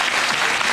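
Short burst of dense, steady audience applause, loud and even throughout with no voices standing out.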